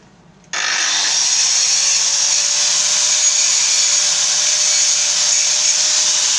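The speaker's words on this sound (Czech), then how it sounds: "Jinak tady to je flexi." An inexpensive angle grinder switches on suddenly and runs as a loud, steady high-pitched whine without pause, near a moped engine and exhaust being fitted.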